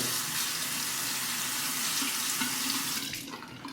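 A faucet runs steadily into a sink as a Parker 65R safety razor is rinsed under the stream, a continuous close hiss of water that shifts slightly near the end, with no talking.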